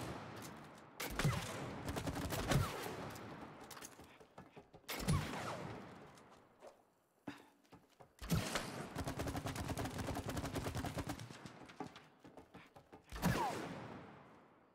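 Rapid gunfire bursts in It Takes Two aimed at a wall: four dense volleys of crackling shots, each lasting one to two seconds, separated by short quiet gaps, fairly faint overall.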